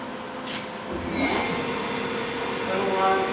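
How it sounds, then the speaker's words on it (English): The spindle of a 1997 Ecoca CNC lathe spins up with a rising whine and several steady whistling tones, joined by mechanical hum, close and moderately loud. "At this time, I will start the spindle and let it run, and I will jog the axis servo motors with the secondary control station."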